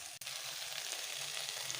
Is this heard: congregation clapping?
no